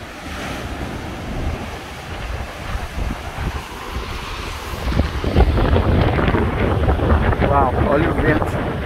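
Strong wind buffets the microphone on a rocky Puerto Rico coastline with surf crashing below, a constant roar that grows louder and rougher in the second half, with a voice faintly mixed in.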